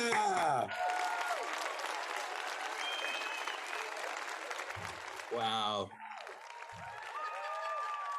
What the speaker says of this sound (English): As much applause as we can have.